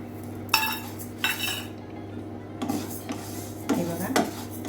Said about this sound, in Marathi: मध्यम गॅसवर आपल्याला ही सगळी डाळ भाजून घ्यायची आहे